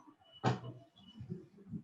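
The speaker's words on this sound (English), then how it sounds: "My dog was constantly banging the door." A dog bangs against a door at home, one sharp knock-like impact up close, followed by quieter faint rustling and low shuffling sounds.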